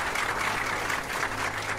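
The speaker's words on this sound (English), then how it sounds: "So please give them a round of applause." A studio audience on a Nigerian TV quiz show breaks into steady applause. The clapping stays dense and even for the whole stretch, with no voices over it.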